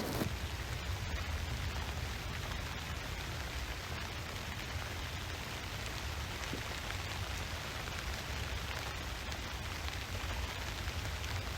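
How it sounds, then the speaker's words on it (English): Steady rain patters densely on a tent, a constant hiss with soft drumming, no voices. "just get away from the rain for a bit"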